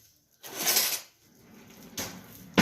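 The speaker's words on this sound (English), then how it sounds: "See if I have any in this drawer." Metal utensils clatter and scrape as a kitchen drawer is rummaged through, two bursts of jangling cutlery close by, the second shorter, with a final sharp clack.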